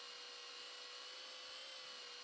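A helicopter in the video game GTA San Andreas gives a faint, steady whirring rotor drone throughout, with no voices.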